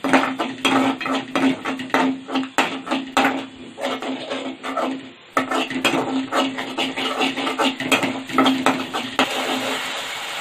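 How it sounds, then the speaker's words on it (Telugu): Ginger garlic paste frying in oil in a kadai, heard as a close, continuous run of metal scraping and clattering stirs with a low sizzle beneath, briefly pausing midway before resuming. "ఇప్పుడు బాండీల నూనెలో జింజర్ గార్లిక్ పేస్ట్ వేసిందాను, నూనెలో వాడుచుకోవాలక పచ్చి వాసన పోయేంతరికి."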